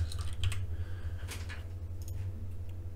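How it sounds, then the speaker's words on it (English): Fingers tap steadily on a computer keyboard while entering a web address, a soft irregular clatter of keystrokes over a constant low electrical hum. "typing is hard today"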